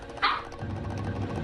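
Puppies in a car commercial give a quick yip and bark, brief and fairly close, followed by low rumbling commercial background sound.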